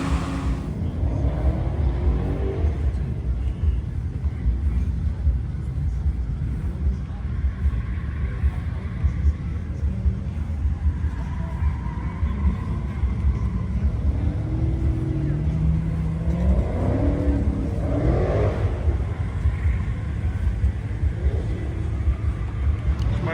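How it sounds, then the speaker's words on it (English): Tires squeal in the distance from an autocross track at a Mopar-only car show, rising and falling whines over a constant engine rumble and crowd noise, with people talking nearby. "Hear the tires squealing in the background."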